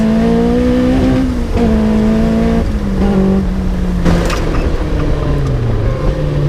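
A loud Caterham 420R engine revs and drops continuously, its pitch rising and falling with throttle, close and steady without pause.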